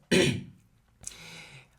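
A single sharp throat clearing, followed a moment later by a softer, raspy second clear of the throat, close and alone.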